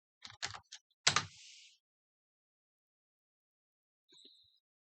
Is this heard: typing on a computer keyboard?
yes